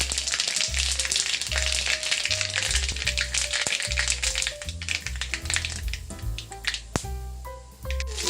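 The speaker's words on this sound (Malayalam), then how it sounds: "ഇനി വേണ്ടവൻ കടുകിട്ട്, ഒരു സ്പൂൺ കടുകിട്ട്." A spoonful of mustard seeds frying in hot oil, with rapid popping and crackling over a continuous sizzle, as pitched musical notes play throughout underneath.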